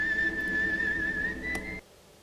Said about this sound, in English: all I could hear was a whistle, and my first thought was Lassie.